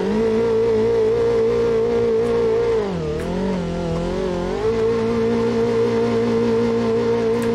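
Game car drifting in a Tokyo Drift style, its engine holding a steady loud drone that dips and swoops in pitch midway as it slides, then settles back to a constant tone.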